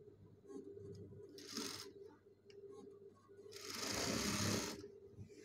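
Sewing machine stitching a jubba shirt in two bursts, a short run followed by a longer steady one, close and loud over a low constant hum.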